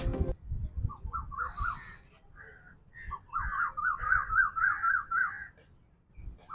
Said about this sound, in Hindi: परिंदों की आवाज़ें बड़ी प्यारी लग रही हैं।